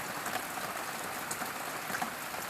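Steady rain falls in a continuous broadband hiss with scattered droplet patters, moderately loud and unbroken, with no voices.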